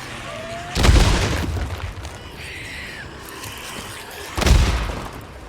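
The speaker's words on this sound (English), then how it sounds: "We're going to start lobbing grenades." Two heavy grenade explosions in the video game Days Gone, each a loud booming burst with a rumbling tail, spaced a few seconds apart over low game ambience.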